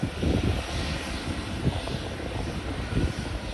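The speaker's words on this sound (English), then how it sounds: "It's because it's a small airplane from the Portuguese Air Force." A small Portuguese Air Force airplane at Ponta Delgada airport in the Azores makes a steady, rumbling engine roar at a moderate distance, droning continuously with gentle fluctuations and no voices over it.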